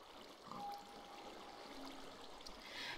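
A waterfall in Minecraft runs as a steady, soft rushing trickle that goes on without a break. It is faint and fairly distant, and no one talks over it.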